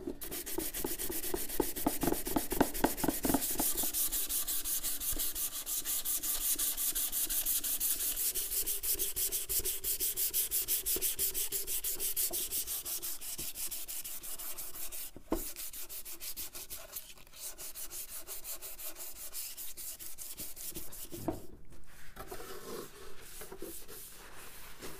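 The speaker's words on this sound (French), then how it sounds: "Puis le réservoir peut sécher et la selle peut être poncée à nouveau." Sanding a café racer motorcycle seat during paint preparation: a steady, continuous abrasive rubbing with fast repetitive strokes, close and fairly loud, running without pause and alone throughout.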